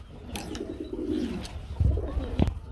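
Soft, low cooing from an Indian dove, a few murmured calls with brief pauses, set against faint background noise and some rustling.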